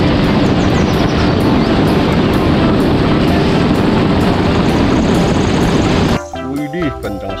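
A toy jet boat's loud, steady motor whine drones continuously for about six seconds, then drops away as music and voices take over.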